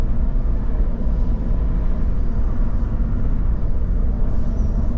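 A Jeep Grand Cherokee accelerates along a road, heard from inside as a steady low engine and road rumble that holds evenly for the few seconds, with no talking.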